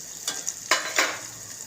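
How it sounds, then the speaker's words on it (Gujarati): Water is poured into a hot tempering of mustard seeds, garlic, asafoetida and chilli for dhokli curry, giving several quick, loud sizzling bursts up close before it settles to a softer hiss. "પાણી નાખશું, લાલ મરચું, ધાણા જીરું, મીઠું, ગરમ મસાલો, હળદર બધું પાણીમાં નાખ્યું છે."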